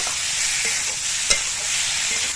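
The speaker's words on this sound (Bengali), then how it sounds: "চিংড়ি মাছ দিয়ে আরো একটু সময় আমি কষিয়ে নেব।" Shrimp coated in salt and turmeric sauté in a pan with a constant close sizzle, broken by one sharp knock of a utensil against the pan partway through.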